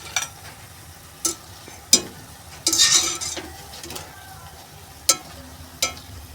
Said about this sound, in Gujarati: આવી રીતે તરાવા દેવાના છે. એક સાઈડ થઈ જાય એટલે એને આપણે પલટાવી કાઢીશું અને આવી રીતે તરીશું.